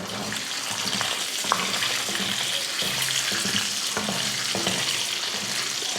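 Eggs fry in hot oil in a pan for an egg curry (kulambu), giving a continuous, loud, close sizzle with occasional stirring scrapes and soft clinks, no voices.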